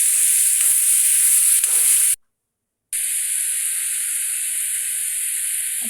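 Tomatoes fry in a pan for a lady finger curry, giving a continuous close sizzle and hiss that cuts out to silence for a moment, then returns just as strong.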